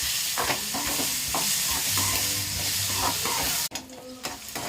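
Steady sizzling and frying of tomatoes sautéing in a pan with occasional stirring scrapes, close and continuous, with a brief break near the end.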